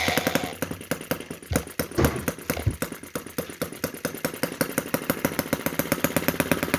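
A small petrol model engine on a Chinese micro tractor runs close by, a fast steady putter of rapid firing pulses that stumbles briefly early on, then settles into an even rhythm.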